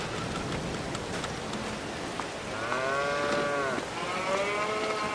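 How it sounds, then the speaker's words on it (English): Cattle mooing inside a barn in Farming Simulator 22, several drawn-out harmonic moos in the latter half over a steady patter like rain, no talking. "Let's check the cows out here."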